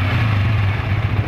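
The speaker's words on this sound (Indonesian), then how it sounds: "Nah, ini mesin sudah mulai nyala ya." A Dixon motorcycle engine idles after a tensioner replacement, holding a smooth, steady low hum up close with no revving and no voices.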